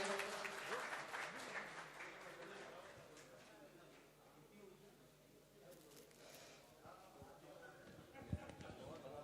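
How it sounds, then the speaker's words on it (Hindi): Audience applause at a mushaira poetry gathering in Pulgaon, Wardha, a steady wash of many hands clapping, recorded faint and somewhat distant, with a host's voice talking over parts of it. "जोरदार तालियां।"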